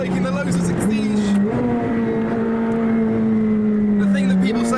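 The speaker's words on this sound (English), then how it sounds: "Overtaking the Lotus Exige." Loud, close engine drone with steady pitch rising through gears, a sports car pushing hard around the Nürburgring while overtaking a Lotus Exige, with someone talking over it.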